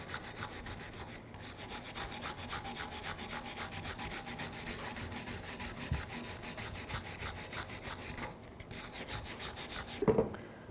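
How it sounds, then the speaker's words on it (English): A wire brush scrubs rust off a brake caliper bracket on a 2010-2014 Cadillac SRX. The rapid, harsh back-and-forth rasping is close and loud and runs almost continuously, with brief pauses between strokes. "Take a wire brush. Just clean up any rust buildup right here."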